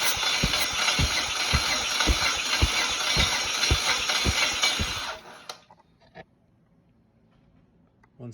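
A used engine with about 300,000 miles idles close by with a steady, rhythmic rattling knock for about five seconds, then shuts off, leaving near silence with a few faint clicks.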